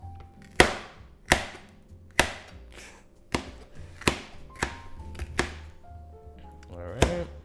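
A knife chops green peppers on a cutting board, giving about ten sharp, distinct thunks at an uneven, unhurried pace, close and clear with no talking.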